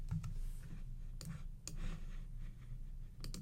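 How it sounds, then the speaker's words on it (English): Quiet, irregular clicks and taps from a computer keyboard: a few short bursts of keystrokes, faint and close, over a low hum. "and I can type About Me."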